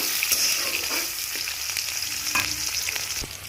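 Chopped onions fry in a pan for a Bengali banana-stem dish, giving a steady broadband sizzle with a few soft stirring scrapes, close and continuous, with no voices.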